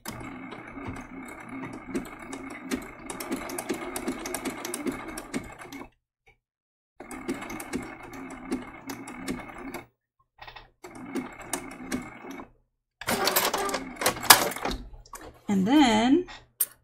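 A sewing machine stitches the side of a small giraffe tail applique for a quilt, whirring in sustained runs that stop briefly between seams, close-up, followed near the end by scattered handling noises.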